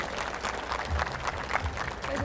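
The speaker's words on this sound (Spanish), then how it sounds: "campuseros, por favor, un gran aplauso para el ingeniero." Audience applause at a tech conference after an engineer's talk on quantum key distribution, a steady wash of clapping filling the whole short stretch with no clear gaps.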